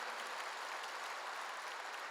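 A church congregation claps during a sermon, a faint, distant and thin wash of applause that stays uniform and low throughout, heard alone without any voice.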